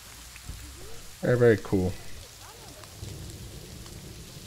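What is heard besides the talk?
rain falling in the video game Planet Zoo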